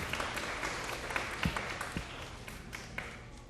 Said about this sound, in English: Let's all give each other a round of applause, please.